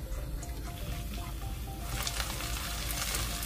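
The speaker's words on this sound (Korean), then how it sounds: "팬에 들기름 2큰술을 두르고 다진 마늘 1큰술을 넣고 중약불에서 볶아주세요" Minced garlic frying over medium-low heat in perilla oil, a steady close sizzle that swells louder and brighter partway through, with no talking.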